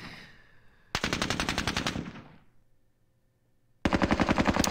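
Automatic gunfire from computer-controlled troops in a Falklands night assault wargame on Wireless Ridge: two loud rapid bursts, the first fading out slowly, then a pause before the second begins.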